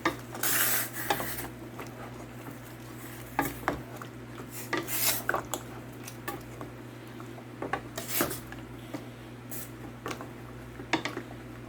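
Spice marinade mixed into chicken for grilled chicken and jollof rice, close rasping rubs and scrapes against a bowl with occasional clinks, irregular strokes over a steady low background hum.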